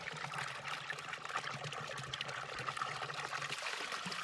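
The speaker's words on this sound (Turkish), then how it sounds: "Belki su buralardan akıyor." Water runs steadily from an old stone village fountain, a continuous close trickling and splashing stream with even loudness throughout and no speech.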